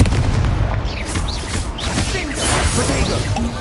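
An Incendio fire spell is cast in Hogwarts Legacy, a dense, loud whooshing burst of flame with booming rumbles that fill the whole moment.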